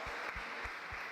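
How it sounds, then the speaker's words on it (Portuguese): Church congregation clapping in steady, evenly spaced beats, a short rhythmic run of claps heard fairly softly. "vamos aplaudir ao Senhor"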